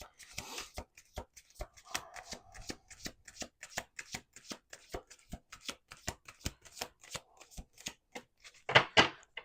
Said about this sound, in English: We're doing 2 more shuffles here.